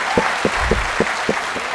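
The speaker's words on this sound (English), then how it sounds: "let's give them a big round of applause once again" An audience at a book launch claps for the speakers, a dense, loud burst of applause with a few sharper individual claps punctuating it at regular intervals.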